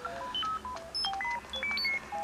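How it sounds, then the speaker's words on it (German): A device in Luigi's Mansion 2 Dark Moon gives off a quick run of short electronic beeps at shifting pitches, like phone keypad tones, clear and alone with no talking. "Das Ding piepst jetzt die ganze Zeit"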